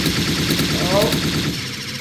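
Rapid automatic gunfire in the Unity FPS Microgame shooter plays as a dense, continuous rattle of shots throughout, close and loud, with a voice speaking briefly over it.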